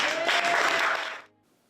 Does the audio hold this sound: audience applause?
yes